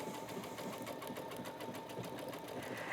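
A sewing machine stitches a tote bag made from a towel, a quick, even mechanical whir with steady rapid needle ticking, close and continuous for a few seconds without talking.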